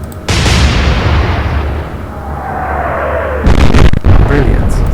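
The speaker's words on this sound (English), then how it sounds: "Very good salvo" A salvo of naval guns firing in the wartime naval video game Atlantic Fleet, a loud, sustained booming roar with a trailing whistle of shells, followed by further heavy blasts near the end.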